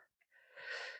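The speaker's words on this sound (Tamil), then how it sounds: "இப்போ தான் தம் கட்டுது, மூச்சு வாங்குது" Heavy, rasping breath of a hiker trekking uphill through dense forest toward Thalamalai temple, a couple of short catches followed by one long loud exhale close to the microphone.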